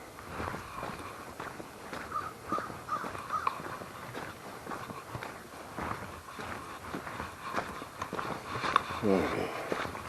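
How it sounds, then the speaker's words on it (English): A crow perched up in a tree on a cold March morning with a little ice left gives several distant caws, while someone talks nearby and footsteps crunch along. "and there's a crow up in the tree."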